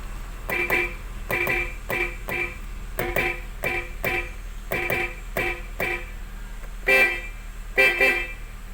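A 2007 Honda CR-V's horn honks repeatedly in short bursts, mostly double toots, loud and close, with brief pauses between them.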